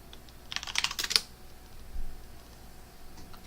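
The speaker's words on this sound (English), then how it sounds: "So let's type in light green" A short burst of rapid computer keyboard typing, close and crisp, lasting about a second, followed by a faint single tap in a quiet room.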